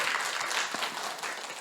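A congregation applauds during a Sunday church service, a steady wash of clapping from many hands at moderate distance that carries on without pause, with no one talking over it.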